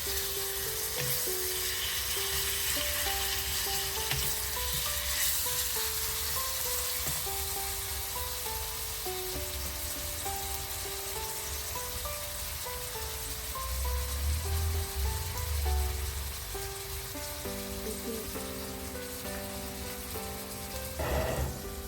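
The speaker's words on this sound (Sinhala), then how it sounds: "මේ විදිහට තෙම්පරාදු කරගන්න ඕනේ" Ingredients fry and temper in oil in a pan for a Sri Lankan breadfruit curry, a steady crackling sizzle like rain that holds throughout with occasional stirring clinks, alongside a faint melodic background tone.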